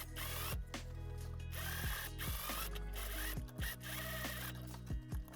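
Sewing machine top stitching a hoodie seam, running steadily and loudly with a rhythmic mechanical clatter that is broken by short pauses and restarts.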